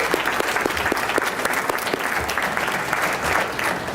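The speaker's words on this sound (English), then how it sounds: "That clap everybody just did" An audience at a Rays of Hope speech event claps steadily for the speaker's parents, a dense wash of hand claps with no voices over it.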